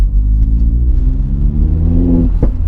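A Vauxhall Astra VXR hot hatch engine revs hard and close, its throaty exhaust note climbing in pitch before dropping off near the end.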